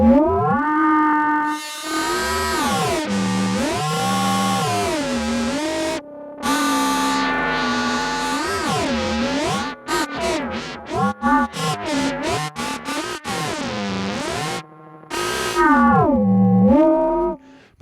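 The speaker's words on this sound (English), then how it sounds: "So that's basically modulating the pitch of the voice with," Synthesized voice whose pitch is swept up and down by a sine wave oscillator on a prototype digital-audio-controlled oscillator, producing loud, continuous warbling tones with steady rhythmic rises and falls and a few short gaps.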